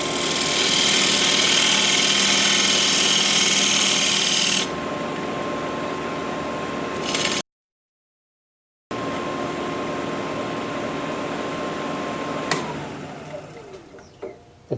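Wood lathe spinning while a bowl tenon is turned on a four-legged square bowl, giving a loud steady motor whine with a cutting hiss that drops partway, then a silent gap, then the motor winding down.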